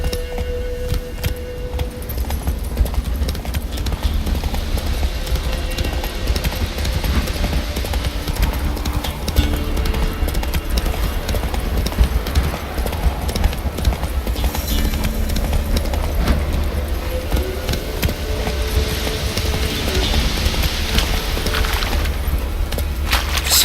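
Horse hooves clip-clop steadily at a trot in The Witcher 3, a loud, continuous rhythmic clatter under game ambience with faint bits of voice.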